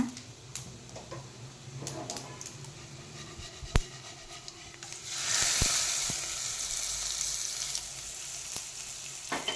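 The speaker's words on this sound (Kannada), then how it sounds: "ಈಗ ಇದಕ್ಕೊಂದು ಒಗ್ಗರಣೆ ಕೊಡುವ" Hot tempering (oggarane) crackling in oil for a beans palya, with a quiet start, then a louder, steady sizzle rising about halfway through and continuing with scattered sharp ticks.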